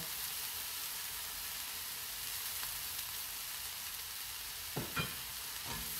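Kangkong leaves are stirred into vegetables frying in a pan, giving a continuous sizzle with a few soft utensil scrapes near the end.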